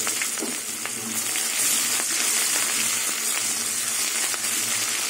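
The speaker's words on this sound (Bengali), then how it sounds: "এবার ফোড়নে 5 ফোড়ন, তেজপাতা, শুকনো লঙ্কা দিয়ে দেবো" Whole spices, panch phoron, bay leaf and dried red chilli sizzle in hot oil, a steady, dense frying crackle that holds close and constant throughout.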